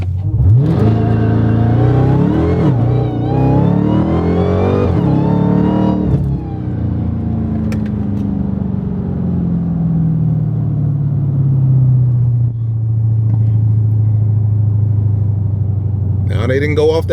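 A Dodge Hellcat Charger running in SRT track mode gives a loud, steady engine rumble and whine with a rev rise early on, then a long drone as it settles. A voice talks over the engine.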